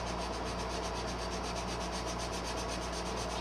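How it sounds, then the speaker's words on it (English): Body filler being sanded on the chassis of a 1959 Chevy drag truck, a steady, unbroken abrasive rasp heard up close with no pauses and no voices. "Hard part's sanding it."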